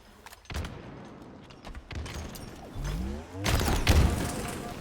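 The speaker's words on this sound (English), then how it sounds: "That was a crazy nade" A grenade blast in Halo Infinite during a charity tournament match, a rumbling burst that swells near the end, preceded by scattered in-game thuds and weapon noise, with no talk over it.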